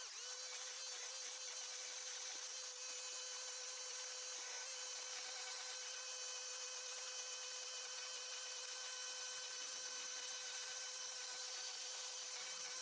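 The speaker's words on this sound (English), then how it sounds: "I just dig it out with the chainsaw." A steady, high-pitched engine whine of a chainsaw carving continuously into a tree, loud and close, with no pauses or voices.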